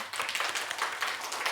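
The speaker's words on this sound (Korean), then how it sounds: "힘내라고 우리 박수 한번." A church youth-service congregation claps together, a brief burst of scattered hand claps at moderate distance, with no voices over it.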